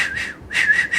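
A voice imitates someone whistling: a few short, close, clear whistled notes with a brief gap between them.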